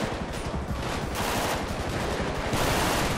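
A helicopter's heavy automatic cannon in GTA V roars continuously and loudly for the whole stretch, a dense rapid stream of shots with no voices over it.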